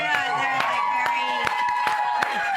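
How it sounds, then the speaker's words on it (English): A small, subdued audience gives a few scattered handclaps in sharp, separate bursts, while voices carry on in between. "Can we get a clap?"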